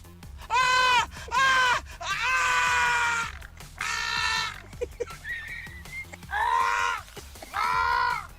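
An old man screams in pain as a crab pinches his nose, giving loud repeated strained wails in short bursts separated by pauses, with a few quieter groans between them.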